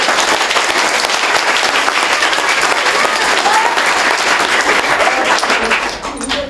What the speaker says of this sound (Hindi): और एक बार ज़ोरदार ताली बजाइए